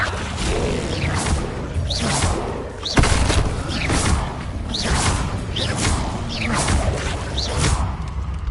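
Levioso spells cast in Hogwarts Legacy, repeated whooshing swishes with rising tones and thuds during a fight, loud and rhythmic, with one heavier impact partway through.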